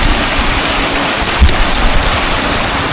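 Heavy rain falls steadily over a stream in the countryside, a loud, dense hiss close at hand with one brief low thump partway through.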